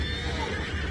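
A horse whinnies in the Red Dead Redemption 2 video game, a short neigh sitting within a dense, steady background of game ambience.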